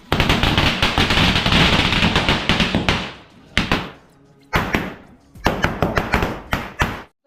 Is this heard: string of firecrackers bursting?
yes